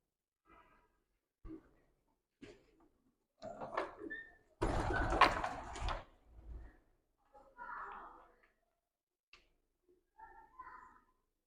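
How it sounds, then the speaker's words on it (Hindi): Soft, intermittent cooing from Hitler breed pigeons kept by a hobbyist, heard as scattered low calls, with a louder burst of noise midway. "ये पटवारी साहब वाला हिटलर कबूतर है"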